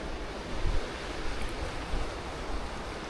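Sea waves at Hua Hin, Thailand, with high water washing onto the shore, a steady rushing surf with a few heavier surges, fairly loud and close, mixed with some wind noise.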